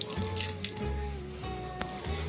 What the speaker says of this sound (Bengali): তো আমি একটু জল দিয়ে দিচ্ছি দেখুন